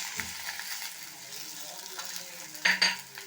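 Cut ivy gourd fries in a pan for a chutney. A quiet, uneven sizzle is broken by scraping stirs and a louder clatter of the spatula near the end.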